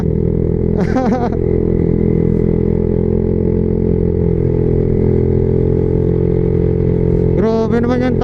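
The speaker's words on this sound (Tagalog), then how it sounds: "Grabe, parang hirap yung motor ko ahon ah." A motorcycle engine labors steadily at a constant low drone while climbing a steep hill, loud and close throughout, with brief bursts of talk near the start and end.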